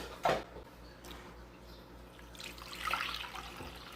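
Water running from a tap as homemade butter is rinsed and washed in a bowl, a short splash near the start and a busier gush of water toward the end, close by with no talk.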